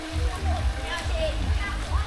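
Low, gentle babble of a small shallow forest stream with little water at Suối Ngọa Vân, Vietnam, steady and close with light splashes, while people talk over it.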